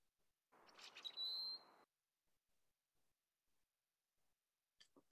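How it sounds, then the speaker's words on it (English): Recorded songbird with a creaky, rusty-gate-like song: a short harsh burst ending in a thin high whistle, then near silence and a brief faint call at the end, quiet and alone. "They have blackbird-like calls, but their songs are quite distinctive. They sound kind of like opening a rusty gate."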